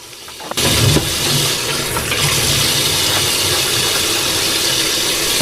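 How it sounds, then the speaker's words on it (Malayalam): Water gushes steadily while fish is washed in a kitchen, starting abruptly and then holding as a loud, continuous rushing flow. "ഫിഷ് വാഷിംഗ് നടന്നുകൊണ്ടിരിക്കുകയാണ്."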